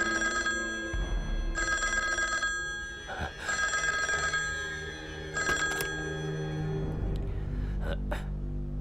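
An old telephone bell rings in repeated loud bursts separated by short pauses, indoors in a wartime drama scene, with a gasp and some voices in the gaps.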